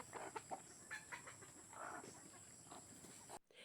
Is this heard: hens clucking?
yes